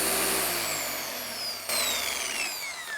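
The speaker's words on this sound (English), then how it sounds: "I'm basically just supporting the polisher with my hand, and it is a pretty lightweight machine as well" A lightweight dual action car polisher runs close by with a steady high whirring hum and gliding pitch sweeps as the speed shifts, with a brief dip and restart midway, no speech.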